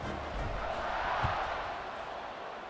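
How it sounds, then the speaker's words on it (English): A football stadium crowd buzzes after a touchdown at a college game between JMU and Buffalo, a broad, steady roar of many distant voices with a faint rise and fall and no clear single speaker. "this crowd is buzzing after that last score"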